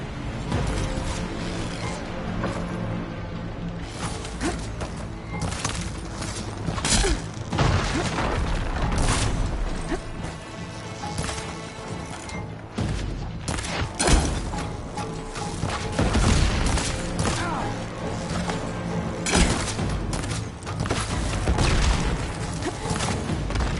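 Dense gunfire and booming explosions in a PS4 video game battle, loud and continuous with thuds, crashes and mechanical clatter layered throughout.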